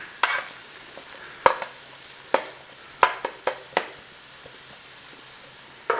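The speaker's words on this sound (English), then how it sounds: "Sprouts, give them a stir over," Softening Brussels sprouts are stirred in a pan, with scattered scraping clacks of a utensil against metal over a faint sizzle, close and irregular, no talk.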